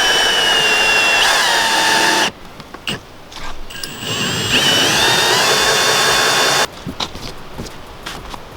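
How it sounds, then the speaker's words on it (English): A power drill bores into fibrous material on an off-grid water setup, giving a loud, steady whine that cuts out abruptly partway, then returns in a weaker, uneven stretch before stopping again. "This is the bit where it messes it all up because it won't drill through the fibres."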